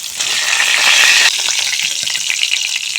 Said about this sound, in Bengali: এখন মাছ ভাজার তেলেই কেটে রাখা আলু ভেজে নেব